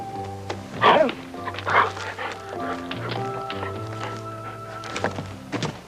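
A dog gives two short barks close by over background music in a Western TV comedy episode.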